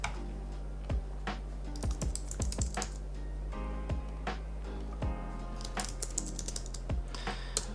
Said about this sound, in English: I'm gonna start typing in Portland.